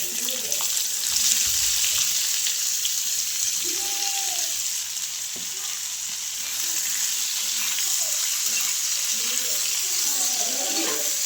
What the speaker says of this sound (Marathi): कडीपत्ता आता कांदा टाकते पहिल्यांदा भाजायला